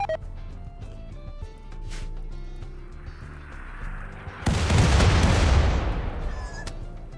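Mortar shells launching and exploding in the colony-building video game RimWorld, a loud rumbling boom that swells and fades over a few seconds after quieter game sounds, with no talking.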